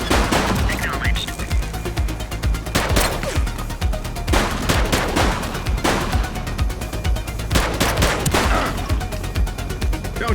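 Gunfire in the police video game The Precinct, loud repeated bursts of shots cracking in clusters across a firefight, with sustained rattling volleys between them.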